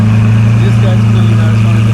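A Lamborghini Aventador idles on a street with a loud, steady, deep engine drone and strong low harmonics, continuous and close throughout.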